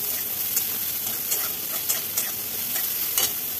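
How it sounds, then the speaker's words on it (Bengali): Chopped garlic and onion stirred and frying in a pan for chicken handi, with a steady sizzle and spaced spoon-scrape clicks throughout. "পেঁয়াজ কুচিটা মিশিয়ে এটাকে ভালো করে ভাজতে থাকবো।"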